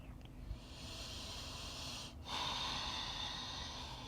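Strong, forceful breaths during a yoga exercise, heard as steady airy exhalations with a sharper snort-like burst partway through, close and fairly quiet.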